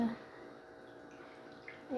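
Water poured into a pan while cooking a sweet dish, a steady splashing rush that runs for about two seconds, with a brief louder gush at the end.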